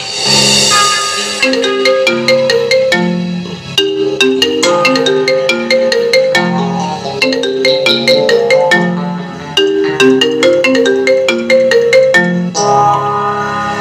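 A bright electronic ringtone melody plays loudly and steadily, repeating its chiming phrase over and over with no voices.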